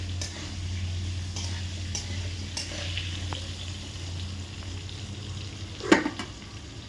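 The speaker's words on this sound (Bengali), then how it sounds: "খুন্তি দিয়ে নাড়া দিয়েই আলুগুলোকে ভেজে নেওয়া হবে।" Potatoes frying in a pan while being stirred with a metal spatula: a steady low sizzle runs throughout, with scattered scraping clinks and one louder clatter near the end.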